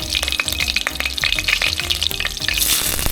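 Sliced onion frying in coconut oil and butter with a bay leaf makes a busy, close crackling sizzle, with rapid popping and light stirring throughout and no speech.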